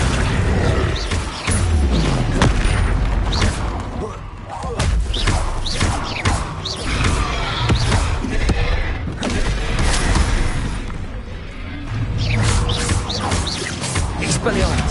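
Spell impacts and explosions from the video game Hogwarts Legacy go off as a dense, continuous barrage of loud thumps and booms, with shouted spell incantations running over the top throughout.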